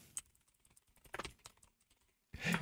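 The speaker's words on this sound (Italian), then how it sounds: "nel motore di ricerca andiamo a digitare come sempre Gentiluomo Digitale" Keystrokes on a PC computer keyboard as a search term is entered into a browser, a quick irregular run of close, crisp clicks with brief pauses, ending in a louder burst.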